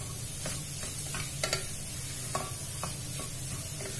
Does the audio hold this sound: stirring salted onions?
yes